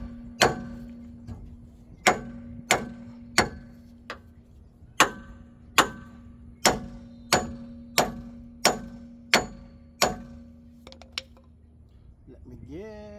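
Hammer blows ring out against a broken hydraulic drive motor on a Broce RC350 broom sweeper, about a dozen sharp metallic strikes at a steady pace with short pauses, loud and close, and no one talking.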